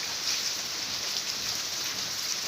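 Rain falls steadily in a Thai home setting, a soft, even hiss with no distinct drops or breaks, moderately faint and with no voices over it.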